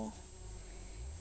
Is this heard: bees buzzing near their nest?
yes